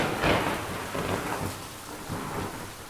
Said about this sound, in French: un violent coup de tonnerre le réveilla.